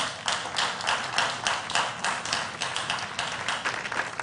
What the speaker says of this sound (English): Then to the other schools that competed, they also deserve a bigger round of applause